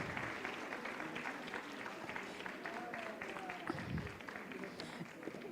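Steady audience applause at a brand awards launch event in Kenya, dense continuous clapping filling the room throughout at an even, moderate level.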